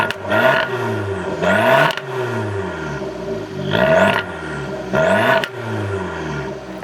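A 2018 Fiat 500 Abarth with a tuned dual exhaust revs hard three times, each loud rising blip falling back to a steady burbling idle between pulls, with no talk over it.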